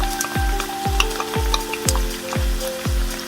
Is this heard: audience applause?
no